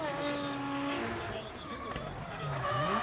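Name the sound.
drift car spinning out on race circuit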